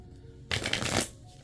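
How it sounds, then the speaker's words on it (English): A deck of tarot cards is shuffled close up at home, a soft papery riffle lasting about a second with quiet handling before and after. "I'm feeling guided to just shuffle."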